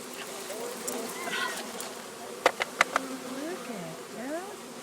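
Bees buzz softly close by as they arrive in a garden, with a few sharp knocks in the middle and quiet voices partly over the hum.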